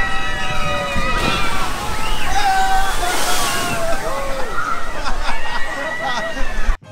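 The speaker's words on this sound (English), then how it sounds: "they got roller coasters for kids, carousel, and even those water rides where they splash you down" A water ride at ZooTampa in Florida sloshes and splashes loudly and continuously, with people's voices and shouts mixed in over the rushing water.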